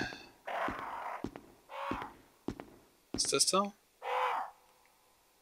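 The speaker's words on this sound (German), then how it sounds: "Es ist ein lebendiger Rabe." A raven in the Resident Evil HD Remaster video game gives several short, harsh caws spaced a second or so apart. Someone speaks briefly between them.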